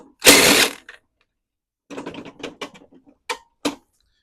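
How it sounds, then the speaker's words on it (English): A wheel comes off a Husqvarna AWD lawn mower with a broken drive gear: one loud scraping burst, a pause, then a run of short metallic clicks and clunks close by, with no talking. "Let's pull this wheel off."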